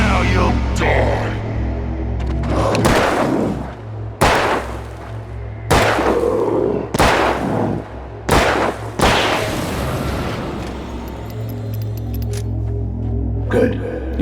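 Gunshots in the video game Alan Wake ring out as a series of sharp, loud blasts spaced a second or two apart, each with a quick decay over a low ambient drone.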